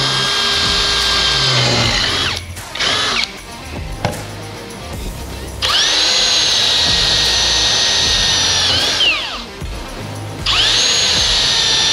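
A Caterpillar DX13 cordless power drill with a graphene battery runs at full speed in loud, high whining bursts, spinning up and cutting off several times with short pauses and clunks between runs.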